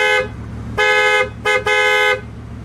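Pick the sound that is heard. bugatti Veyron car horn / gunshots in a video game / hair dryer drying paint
bugatti Veyron car horn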